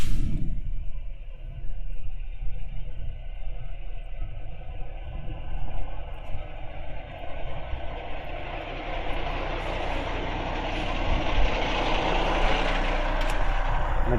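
Truck reversing slowly during a CDL maneuvers test, a low steady diesel rumble that swells gradually, heard from inside the cab.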